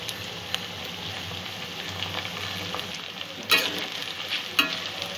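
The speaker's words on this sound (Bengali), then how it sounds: "পেঁয়াজ আর টমেটো আরও একটু ভালো করে ভেজে নেব" Chopped onion and tomato fry in a pan for chicken curry, giving a steady close sizzle, with a couple of sharper scraping stirs partway through.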